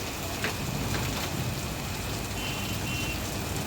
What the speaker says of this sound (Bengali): এখন দুর্দর্শ বৃষ্টি হচ্ছে